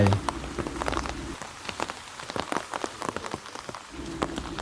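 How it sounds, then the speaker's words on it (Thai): Heavy rain pours steadily through a forest where a herd of wild elephants stands, a dense continuous hiss of drops striking leaves and ground, loud and close, with no voices. "ในระหว่างที่ฝนตกหนัก"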